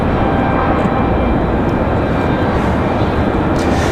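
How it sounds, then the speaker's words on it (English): A Southwest Airlines jet from Chicago Midway lands in strong gusty wind at Raleigh-Durham airport, its loud continuous engine roar mixed with heavy wind buffeting close to the microphone. "You can see Southwest here from Chicago Midway, struggling with the winds."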